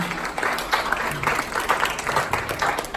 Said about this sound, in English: let's give a round of applause for Lisa